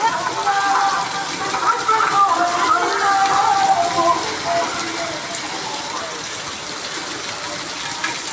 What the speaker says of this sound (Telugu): చూసారు కదా ఎంత వర్షం వచ్చేస్తుందో